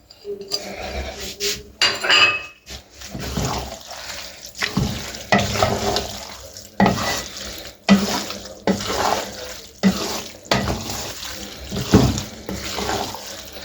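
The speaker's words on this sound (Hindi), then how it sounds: "अच्छी तरह मिक्स करना है इसको" Chicken vegetable macaroni with boiled eggs being stirred and mixed in a pan: repeated scraping and sloshing strokes in an uneven rhythm, close and moderately loud, without talking.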